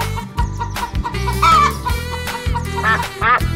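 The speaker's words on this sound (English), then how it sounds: "Chicken." A cartoon chicken in a children's animal transformation game clucks several times in quick bursts, set over loud, busy background music.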